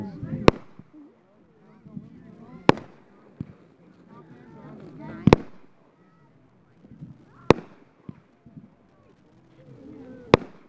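Sharp, loud bangs of fireworks burst at irregular intervals, about five in all, with faint crackles and distant pops in between.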